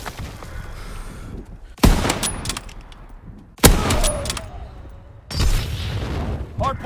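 Grenade blasts in Call of Duty: WWII Hardpoint multiplayer: three loud, sudden booms at roughly two-second intervals, each with a rumbling tail, over steady battlefield noise and game chatter.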